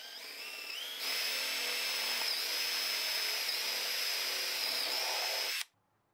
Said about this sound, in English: So we're just gonna start by drilling this.